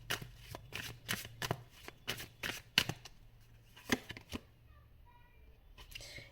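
Tarot cards being shuffled by hand in a quick series of crisp riffling bursts, followed by softer slides and taps as cards are drawn from the deck, close up with a faint low hum underneath.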